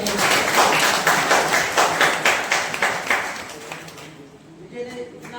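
Loud, sustained applause from a crowd at an Independence Day celebration at a training centre welcomes Vijay, with rhythmic clapping that thins out and fades toward the end.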